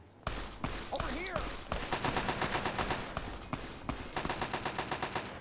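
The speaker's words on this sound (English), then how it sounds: "What are you guys firing at?" Gunfire in Fallout: New Vegas, a few sharp single shots followed by a rapid, rhythmic burst of automatic fire at close range, alone without talk.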